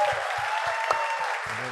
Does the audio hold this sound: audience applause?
yes